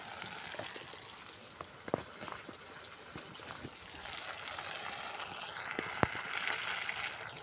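Boneless chicken fries with ground black pepper in a pan during outdoor village cooking, giving a soft, steady sizzle with occasional sharp crackles and pops throughout.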